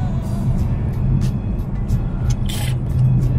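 A BMW E92 M3 cruises down a highway with a steady, loud low engine and road drone, while a few short whooshes of passing sound flicker above it.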